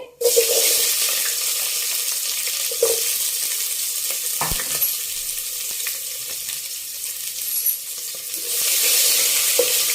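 Steady loud sizzling of onions frying in hot oil, with a few clinks and stirring sounds, no voices.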